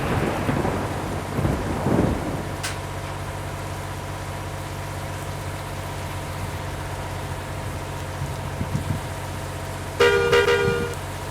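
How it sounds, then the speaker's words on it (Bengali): Rain and thunder from the Bus Simulator Indonesia driving game: a steady wash of rainfall runs throughout over a low engine hum, with a rumble near the start and a brief horn toot near the end. "বৃষ্টি পড়ছে।"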